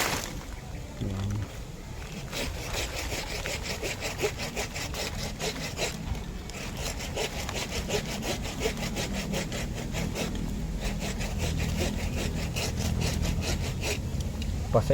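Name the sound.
hand saw cutting a hibiscus bonsai trunk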